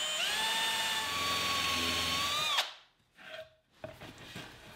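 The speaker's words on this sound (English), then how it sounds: "I'll use a number 8 pre-drill and countersink bit to pre-drill and countersink for the" A power drill fitted with a number 8 pre-drill and countersink bit whines at steady speed while boring into wood for cabinet screws, then winds down sharply, followed by a couple of brief quieter bursts and handling noise.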